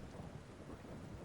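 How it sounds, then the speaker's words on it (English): Heavy rain drums steadily on a car roof close by, a dense continuous patter with a low rumble beneath. "The only sounds now, the heavy rain hitting the roof of her car"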